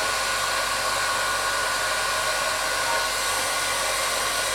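A Wonder Blower terahertz device blows air in a loud, constant whooshing rush, steady and unbroken throughout, heard up close with no talking.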